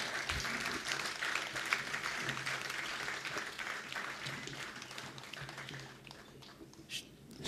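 An audience at a theatre awards ceremony claps for an arriving award winner, a dense, sustained round of applause that gradually thins out toward the end.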